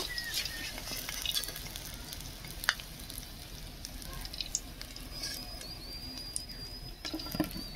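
Lobongo latika sweets fry in oil, a quiet, even sizzle with faint bubbling and a few soft clinks, steady throughout.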